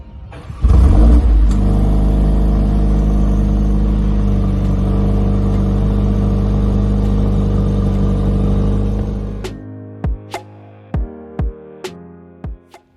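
A 2023 facelifted VW Polo GTI engine revs loudly and steadily up close, a sustained rumbling drone, then cuts off into a series of about five sharp short throttle blips.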